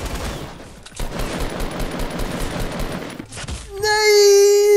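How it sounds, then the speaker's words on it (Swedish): Rapid gunfire in the Fortnite video game, a dense sustained burst of shots lasting several seconds, loud and close, ending with a brief gap and a bright tonal game sound. "jag pepprar ju massa med skott"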